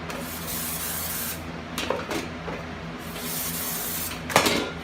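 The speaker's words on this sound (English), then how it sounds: "we're going to go ahead and give this a little squirt of brake clean" Brake cleaner sprayed onto a wheel backing plate from a Toyota 4Runner, a steady close hiss of aerosol with a few brief louder spurts.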